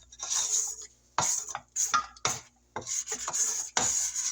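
A spatula scrapes down the sides of a mixing bowl full of German chocolate pound cake batter, making repeated close rasping strokes in irregular bursts with brief pauses between them.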